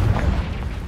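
A Confringo blasting spell detonates in the Hogwarts Legacy video game, a loud, deep boom that rumbles steadily through the brief moment with no voices over it.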